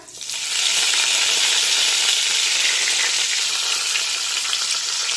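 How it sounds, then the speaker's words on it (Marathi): Cumin seeds crackle and sizzle in hot oil in a home kitchen pan, a loud steady frying hiss that starts abruptly and continues with fine popping throughout, no voices. "जिरे पण छानपैकी फुलून फुटू द्यायचे"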